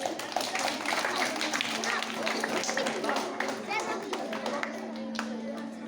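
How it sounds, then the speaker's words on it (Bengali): An audience claps at a primary school certificate ceremony as certificates are handed out. Scattered, fairly quiet applause mixes with voices and a faint steady tone throughout. "আমরা হাততালি দেবো সবাই"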